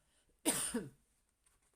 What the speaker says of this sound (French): J'en tousse.